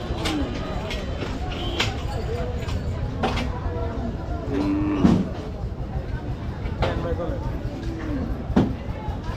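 Cattle at a crowded Qurbani livestock market where buffalo are sold give a few low, drawn-out moos amid constant crowd chatter and market bustle.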